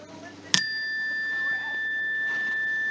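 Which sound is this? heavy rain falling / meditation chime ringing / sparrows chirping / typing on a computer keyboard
meditation chime ringing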